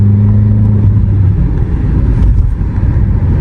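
New 2025 Tata Sierra diesel SUV pulling hard under full throttle, a loud close engine roar with a falling low hum early on, shifting into a dense rumbling drone.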